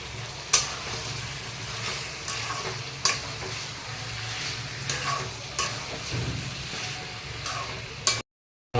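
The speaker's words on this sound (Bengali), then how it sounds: "আর কিছু সময় ভাজা করে নেবো সাথে আলুটাও দিয়ে দেবো" Chicken liver and stomach pieces fry with potatoes in a pan, giving a steady close sizzle broken by a few sharp knocks from stirring against the metal.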